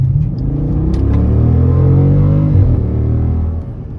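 A Jeep SRT engine fitted with an aftermarket exhaust and large resonators revs loudly and close, a deep throaty rumble that rises and holds before dropping off, with no talking.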